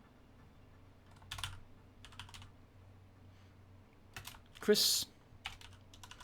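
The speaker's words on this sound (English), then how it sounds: "Do I start typing?" Typing on a computer keyboard: scattered bursts of clicky keystrokes at close range, with a louder cluster near the end and a brief spoken word between them.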